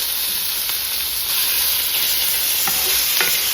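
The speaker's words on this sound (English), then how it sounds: "I get the bacon fried, and I'll be frying the corn in it" Bacon and corn fry in a pan with a steady, close, dense sizzle and hiss for Southern fried corn, with a few faint stirring clicks near the end and no talking.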